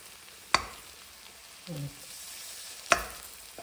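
Potatoes and onion frying in a pan for a dry aloo matar dish, a faint steady sizzle broken by two sharp scraping stir strokes and a short low clatter between them, with no talking.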